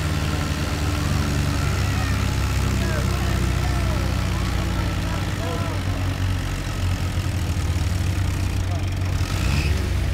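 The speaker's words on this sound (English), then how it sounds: "Tractor pulls to the left just a little bit." A 1952 Case VAC tractor engine runs at a steady, loud rumble during an antique and classic tractor pull at Cotton Days, with an announcer's voice talking over it.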